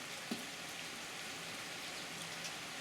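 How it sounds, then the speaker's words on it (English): Heavy rain pours steadily on a farm, a dense, even hiss of drops on surfaces that stays constant throughout with a faint thud or two and no voices. "It's like pouring."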